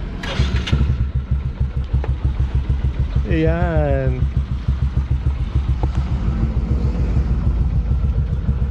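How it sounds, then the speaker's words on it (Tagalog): A motorcycle engine warms up at idle, a loud, steady, close pulsing putter throughout, with a brief spoken word near the start and a short vocal or whistle-like sound in the middle. "At syempre papainitin muna natin yung kanyang makina."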